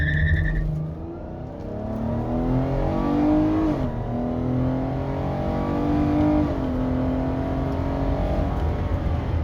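A 2016 Chrysler Town & Country with a 3.6 V6 accelerates hard to 100 km/h, its engine note climbing loudly through the gears with clear drops at each shift, heard steadily from inside the car.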